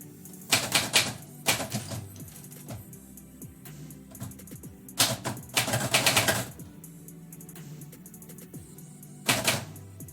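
A manual typewriter typing poetry in short bursts of clacking keystrokes separated by pauses, close and clear with a few carriage sounds, no talking.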